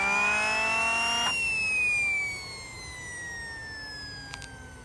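High whine of an RC helicopter turbine engine, steady and fairly loud at first, then a gliding drop in pitch that keeps falling slowly as it fades, with a brief faint click near the end.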